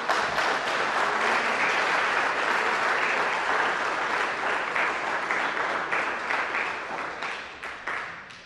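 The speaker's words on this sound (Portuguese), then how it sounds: "Aplauda esse Deus maravilhoso." A church congregation applauds together, dense and sustained clapping filling the room, holding steady before gradually tapering off toward the end, with no voices over it.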